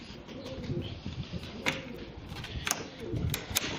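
Pigeons coo softly on a balcony, a low murmuring bed with a few sharp wing flaps or taps standing out near and intermittent.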